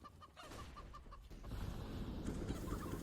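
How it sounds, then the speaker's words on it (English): Chickens cluck on a Counter-Strike: Global Offensive map during a tournament match, short rhythmic clucks at first, then a louder burst of fluttering and flapping noise, fairly faint overall. "Those chickens are very, very loud."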